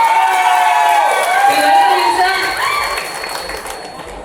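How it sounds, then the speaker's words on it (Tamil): A crowd at a TVK influencer meet welcomes Loyola Mani with loud cheering and whooping voices over clapping, a dense, close roar that stays strong throughout. "அவருக்கு ஒரு பெரிய கைத்தட்டல் வெல்கம் பண்ணலாம்."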